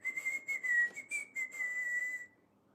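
A person whistles a wavering, clear tone for about two seconds, close and moderately quiet, in short breathy pulses before stopping.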